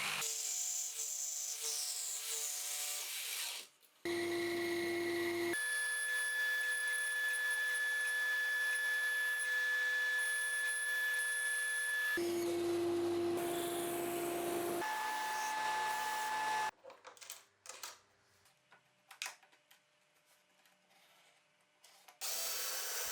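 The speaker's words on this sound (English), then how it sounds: "Lastly, I cut and machine the 2 parts that will lock the fence at an angle." Power tools cut and machine wooden parts for a homemade tilting fence on a cheap jointer-planer combo, with loud sustained whining cuts in long runs and quieter scraping gaps between them.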